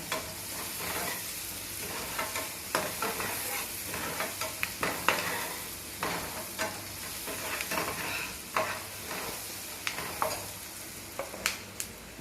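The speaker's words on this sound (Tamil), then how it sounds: "கொஞ்சம் வெங்காயம் தக்காளி ஒரு ரெண்டு பச்சை மிளகா வச்சா கொஞ்சம் நல்லாயிருக்கும் போட்டுக்கிறேங்க" Onion, tomato and green chilli fry in a pan as the base for a Tirunelveli-style dried-fish curry, with a continuous close sizzle and repeated scraping stirs throughout.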